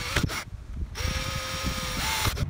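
A power drill with a bit bores a hole for drains in an Old Town Loon kayak, a close steady whir broken by brief starts and stops, with a short motor pause near the end.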